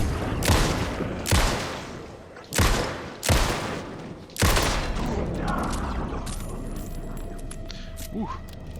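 A weapon fires in the video game Alan Wake 2: five loud, heavy shots spaced about a second apart, each with a sharp crack and a rumbling tail, followed by quieter clattering game sounds and a brief voice.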